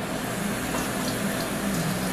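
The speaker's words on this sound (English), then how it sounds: "We're just gonna wash the spoon real quick." Running tap water pours steadily over a metal spoon at a kitchen sink, a continuous close hiss and splash with no talking.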